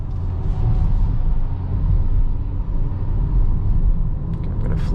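A 1.5-litre petrol engine in a 2024 Geely Coolray with 7-speed dual-clutch gearbox, heard from inside the cabin on a night drive: a steady, subdued low rumble with road noise, quiet and continuous throughout.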